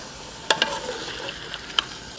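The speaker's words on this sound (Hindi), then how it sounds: "अभी हम ये चिकन इसमें डालेंगे। तीन से 4 मिनट के लिए इनको फ्राई करना है हमने।" Chicken frying in hot oil gives a low, steady sizzle with a few sharp clinks and stirring taps from a utensil, close up and without talk.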